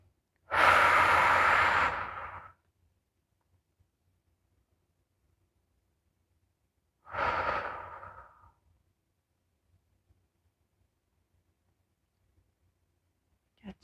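Deep, slow breathing during a beginner yoga flow, two long audible breaths several seconds apart, close and clear against near silence.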